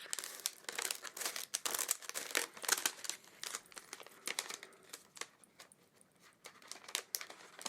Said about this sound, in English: I'm just gonna cut the top off.